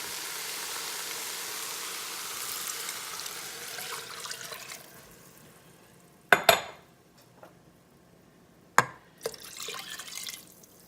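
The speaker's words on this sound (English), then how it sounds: "All right, and then we're going to put in some water." Water pours steadily into a pressure cooker holding split peas for soup, a sustained wash for about five seconds, followed by a few sharp metallic clinks of the pot or utensils.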